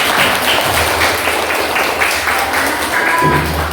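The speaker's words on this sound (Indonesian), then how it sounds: "Untuk semuanya kita kasih tepuk tangan." Group of participants applauding after presentations in a classroom-style training session, loud, close clapping with scattered taps and thuds, continuous throughout.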